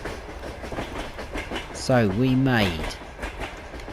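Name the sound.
train passing in video game Farming Simulator 22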